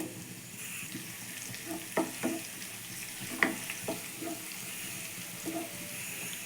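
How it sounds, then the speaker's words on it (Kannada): Garlic and ginger dropped into hot oil in a pan, a soft steady sizzle with a few sharper spits and clinks of stirring, quiet and close. "ಸ್ವಲ್ಪ ಎಣ್ಣೆ ಬಿಸಿಯಾಗಿದೆ ಬೆಳ್ಳುಳ್ಳಿ ಹಾಕ್ತಿದ್ದೀನಿ"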